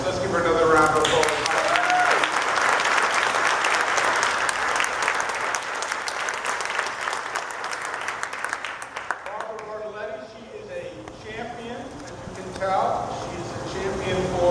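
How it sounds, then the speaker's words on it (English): A crowd gives a New York state government official another round of applause, dense clapping that is loud at first, thins and fades after about nine seconds, then gives way to talk. "Let's give her another round of applause."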